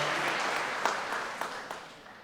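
Applause from an audience at a county Republican meet-the-candidates event honoring county commissioner candidates, a steady wash of clapping that slowly fades over about two seconds, with a few sharper claps standing out.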